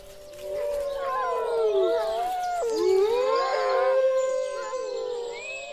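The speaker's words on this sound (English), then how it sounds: "Wolves still roam throughout the Dumitor Mountains, and their howl is a primal call of the wild." Wolves howl in the Durmitor Mountains of the Balkans, several long wavering voices rising and falling and overlapping in a loud, close chorus that carries without pause.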